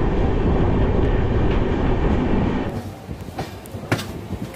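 The 12857 Tamralipta Express runs on the Howrah–Digha line, its steady, loud rolling rumble filling the carriage before thinning into lighter rattles and clicks.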